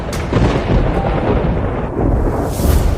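Heavy rumbling thunder during an anime lightning trial at a sect elder's secluded retreat, a loud continuous roar with crackling bursts and no voices.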